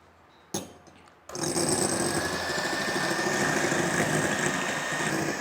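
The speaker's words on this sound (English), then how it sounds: "Very stiff we have to beat it." An electric hand mixer switches on after a brief bump and whirs steadily as it beats two egg whites in a bowl for an icing, a continuous high motor drone close by with no talk.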